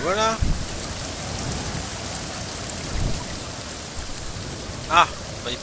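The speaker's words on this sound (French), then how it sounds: "Ah bah il pleut toujours au petit matin," Steady rain hiss in the survival game The Forest during an early-morning thunderstorm, a continuous wash under brief voice bursts at the start and near the end.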